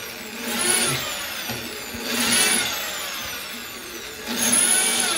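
Electric drill boring holes through ceramic wall tile, three long grinding bursts with a high whine, each swelling and easing, loud and close with no talk.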